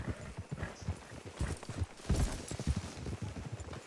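Hooves clip-clop in an irregular walking rhythm as horses move at close range in the video game Red Dead Redemption 2, with occasional heavier thuds and light background ambience.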